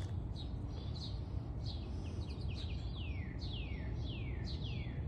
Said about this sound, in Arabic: نسمع صوت العصافير، صوت العصافير في الصباح شيء روعة.